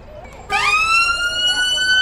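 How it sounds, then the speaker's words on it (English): A loud ambulance siren suddenly blares close by during a Pride street event in Blackpool, its rising wail sweeping upward and holding steady over street noise. "We've got the ambulance behind us."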